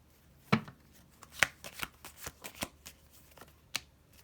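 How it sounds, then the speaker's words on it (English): Tarot cards being shuffled close up, a few sharp riffling bursts followed by softer flicks and taps of the deck, with no talking. "I want to pull out another card."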